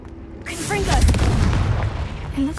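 Confringo spell explosion in Hogwarts Legacy, a single heavy boom with a rolling rumbling tail inside a cave, loud and close, preceded by a spoken incantation.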